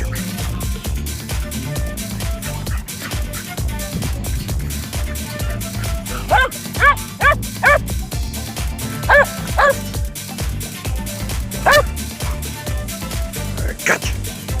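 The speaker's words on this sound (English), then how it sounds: "A silly dog." A dog barks, yips and whimpers at a playground in short scattered bursts over steady background noise, with a man calling to it now and then.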